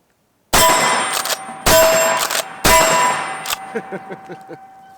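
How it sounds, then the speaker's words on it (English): Three sharp blasts from a Benelli SuperNova 12-gauge shotgun firing 1-ounce slugs, each followed by a ringing metallic clang of steel targets being struck, the last ring decaying into fading pings. "let's go ahead and hit the steel with some 1-ounce slugs"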